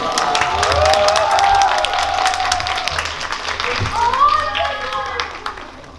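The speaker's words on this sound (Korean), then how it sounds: "네, 큰 박수로 맞이해주시죠." A crowd welcomes an arriving guest with loud applause and cheering, clapping throughout while excited voices and shouts rise over it.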